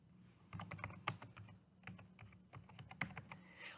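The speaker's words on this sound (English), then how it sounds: "You can either type in a citation like this," Quick, light keystrokes on a computer keyboard entering a legal citation into a research site, irregular clusters of soft clicks fairly close and quiet, with no talking.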